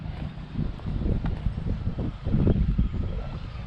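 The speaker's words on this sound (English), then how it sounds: "Sorry if it's a little windy, hopefully you can hear me" Steady low rumbling buffet of wind hitting a microphone outdoors beside a Chevrolet C10 Squarebody pickup, continuous and fairly loud throughout.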